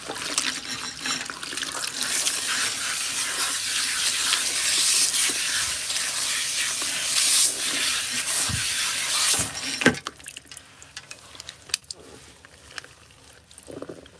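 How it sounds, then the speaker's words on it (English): Water spray rinsing a woman's hair, a steady hissing shower for about ten seconds that then cuts off to quieter handling sounds, with faint voices in the background. "We're going to give her a good rinse."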